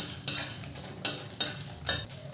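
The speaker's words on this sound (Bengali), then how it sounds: "শুকনো লঙ্কাগুলো আমি হালকা একটু নেড়ে ভেজে নেব।" Dried red chillies fry in a wok while a utensil scrapes and stirs them in four sharp, evenly spaced strokes over a soft sizzle.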